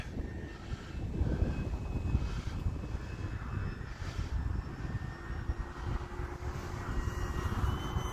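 An E-flite Commander MPD RC airplane on a 3S battery makes a full-throttle pass, its electric motor a steady, moderately distant whine and drone lasting several seconds over outdoor background noise.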